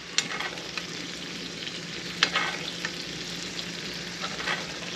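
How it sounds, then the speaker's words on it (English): A porterhouse steak sears in a cast iron pan with rosemary garlic butter, a steady close sizzle and hiss punctuated by occasional spoon clicks and spatters as butter is basted over, without speech. "I'm now gonna let that other side sear."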